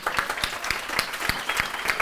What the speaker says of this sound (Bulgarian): Аплодисменти за Христо.